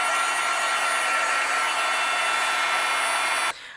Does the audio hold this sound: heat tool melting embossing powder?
yes